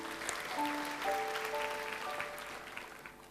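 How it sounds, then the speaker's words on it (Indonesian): A church congregation applauds during a sermon, a soft, steady wash of clapping heard from a distance with sustained instrumental tones underneath. "Beri tepuk tangan untuk Tuhan Yesus"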